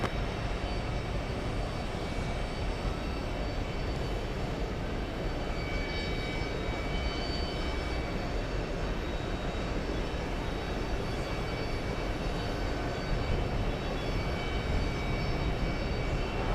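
A Delta heavy airliner bound for Rome lines up for takeoff, its jet engines giving a steady, unbroken broadband roar from some distance with no talk over it.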